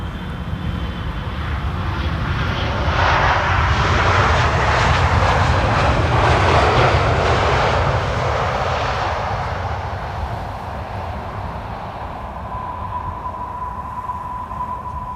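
A wide-body airliner takes off from the center runway at Amsterdam Schiphol Airport, its engine roar swelling to a loud broadband rush over several seconds before slowly fading into the distance, with no one talking.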